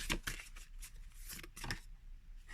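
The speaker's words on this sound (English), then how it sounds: "I shuffled the thank you card in there." A newly opened oracle card deck being shuffled by hand, giving quiet, close riffling and flicking bursts at an irregular rhythm with no talk.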